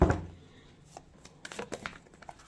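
Tarot cards being shuffled and drawn: a few soft, scattered papery flicks and slides after a brief thud at the start, close and fairly quiet, with no talking.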